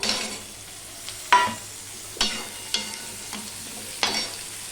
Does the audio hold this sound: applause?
no